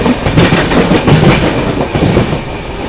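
Bihar Sampark Kranti Superfast Express rolls hard past Vaishali Express at Tundla Junction, a loud, steady roar with rapid clickety-clack of wheels over rail joints, close by and continuous.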